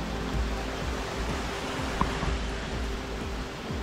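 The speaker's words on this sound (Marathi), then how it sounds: "इथे बघा पाणी किती जबरदस्त वाटतं खाली." Ramghal waterfall at Tondoshi sends water flowing in a steady, even hiss of rushing water with no voices.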